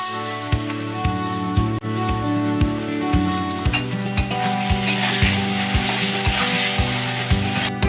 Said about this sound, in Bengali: ভাজা হয়ে গেছে, এখন এগুলোকে তুলে নেব।